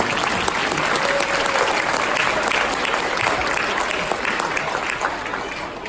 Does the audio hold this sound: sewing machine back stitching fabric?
no